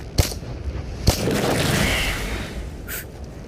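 Gunfire from an enemy shooter in the video game Into the Radius: two sharp, loud reports about a second apart, followed by a rumbling decay and a fainter later crack, with no talking.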